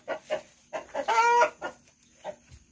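A hen by her nest gives a string of soft, close clucks with one longer, drawn-out squawk partway through, followed by a few more spaced clucks.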